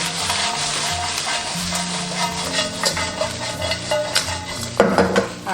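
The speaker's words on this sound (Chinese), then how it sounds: "加入1小勺鸡精，2小勺白糖，然后翻炒均匀" Crucian carp being dry-fried and tossed in a wok with chicken bouillon and sugar over moderate heat, with steady, close metallic scraping and clattering of a spatula against the pan under a continuous soft sizzle, with a louder clank near the end.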